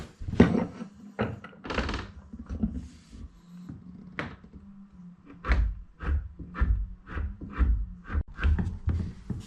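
A Parkside furniture lifter lever raises a heavy door, giving a run of close wooden knocks, clunks and scrapes that turn into a steady, rhythmic series of thuds.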